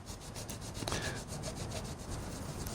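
A rag rubbing back and forth on the painted outer casing of a motorcycle crankcase, producing soft, rhythmic close-up scraping strokes at a steady pace with no talking.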